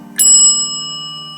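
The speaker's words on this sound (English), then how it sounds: "Here we've got a bell. Go ahead and ring this." A single bell from an old US elevator controller is struck once, a bright metallic ding that rings out close and loud, then decays slowly with a sustained shimmering tone.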